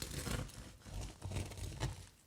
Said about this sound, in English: I'm going to cut it right up the middle.